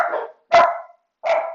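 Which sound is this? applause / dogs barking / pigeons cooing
dogs barking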